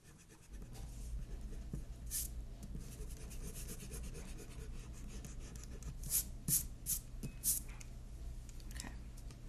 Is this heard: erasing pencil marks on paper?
yes